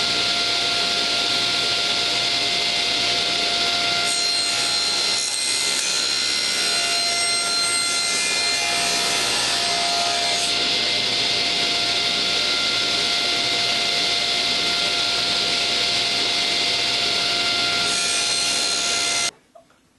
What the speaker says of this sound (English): We're actually going to go to the table saw, and we're actually going to cut the gable ends.